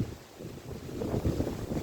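Wind gusts across an open farm field of soybean crops during rain, a rough, buffeting rush that swells toward the end, with no speech.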